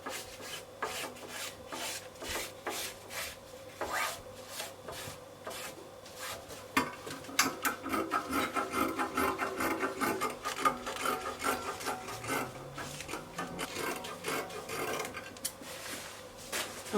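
Scissors cut fabric pockets for a dress in a long run of crisp, rasping snips and rustles, close and steady with brief pauses between strokes.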